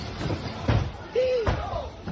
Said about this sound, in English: It knocked over a TV, bro.